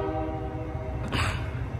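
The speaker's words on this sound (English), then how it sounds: "Here comes a Union Pacific freight train coming down here on Jet London Square." A Union Pacific freight train rumbles past Jack London Square in Oakland, its horn sounding in a short, loud blast over the steady roar of the passing cars.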